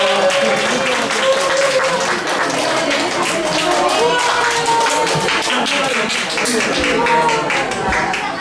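Church congregation at a Sunday worship service giving sustained, dense applause, loud and steady throughout, with voices mixed in.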